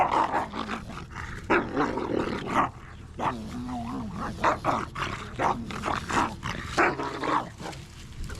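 Rambunctious puppies playing indoors, rough growly barks and yips overlapping in a busy, close jumble throughout, with a voice talking over them.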